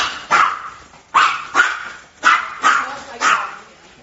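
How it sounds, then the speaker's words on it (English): A dog barks in a series of about six sharp, loud barks, grouped in pairs with short pauses between them, close by and with no talking. "let's see if the dog doesn't bark"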